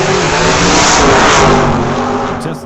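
Old-time drag racing cars, a little Morris Minor and a Pontiac, revving hard on the strip, a loud sustained engine roar that swells and then eases off, with no talking.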